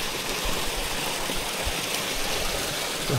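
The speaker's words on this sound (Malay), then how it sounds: "dari sini dah boleh dengar bunyi air tu" Mountain stream water flowing steadily near a spring source on a trail toward a camp on Gunung Korbu, a constant close rushing wash with no talk.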